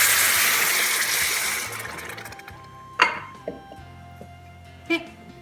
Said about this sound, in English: And we'll add 2 cups of cold water.